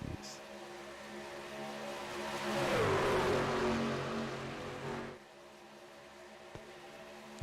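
Racing trucks lapping Atlanta Motor Speedway during a 90-lap feature, an engine roar swelling as a truck passes close then fading into a steady distant drone.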